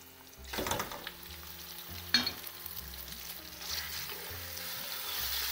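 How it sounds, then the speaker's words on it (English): Spices for a lamb meat stew sizzle and fry in a large pot, making a steady low crackle with a couple of sharp clanks as the mixture is stirred. "Fry that for a little bit and then add all the meat."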